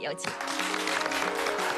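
A television studio audience claps briefly to welcome a doctor onto a health talk show, a dense burst of applause beneath a host speaking.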